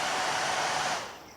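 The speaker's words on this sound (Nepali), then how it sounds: "फ्यान नलगाइ सक्दिनँ म त।" An electric fan runs indoors at home with a steady, close, airy whoosh that holds evenly and then eases slightly softer toward the end. No one speaks.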